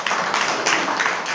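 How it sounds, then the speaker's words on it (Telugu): A church congregation at Sunday worship bursts into loud, dense clapping, a steady wash of many hands without a break. "గట్టిగా చప్పట్లు కొట్టండి అమ్మా"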